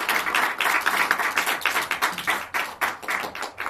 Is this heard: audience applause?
yes